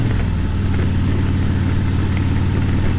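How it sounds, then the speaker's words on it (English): A 2019 Harley Davidson Ultra Limited motorcycle fitted with an S&S exhaust rumbles close by, its deep engine note pulsing steadily and loudly throughout with no talking. "I love the sound of this bike."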